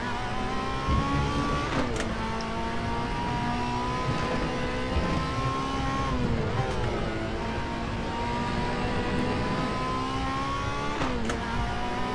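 Race cars in the online racing video game RaceRoom Racing Experience, including a turbocharged GTR, with engines droning and revving steadily through gear shifts over several seconds, a continuous mid-loud game mix with no voices.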